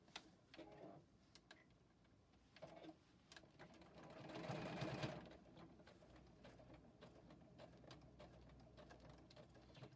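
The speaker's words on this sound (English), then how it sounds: "I'm using that reverse stitch to reinforce the edges." A JUKI sewing machine runs a reverse stitch to reinforce fabric edges with a size 14 needle, giving a steady, close mechanical whir that swells into a louder burst midway and then settles back into quieter running.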